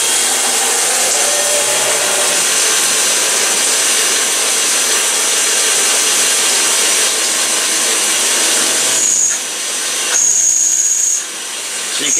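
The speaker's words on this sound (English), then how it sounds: "it's going to start my drilling operation." A PM727M CNC mill with an automatic tool changer runs a drilling operation with a drill bit, producing a loud, continuous hissing machine whine. Near the end, the pitch shifts slightly and brief tonal squeals appear.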